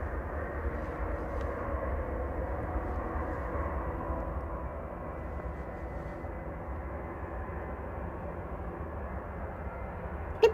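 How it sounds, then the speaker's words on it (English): Ryanair Boeing 737-800 departing Manchester Airport for Salzburg, a steady dull engine rumble that stays fairly distant and even throughout, ending with a brief click. "here we go, first departure of the day, Ryanair 1737 to Salzburg"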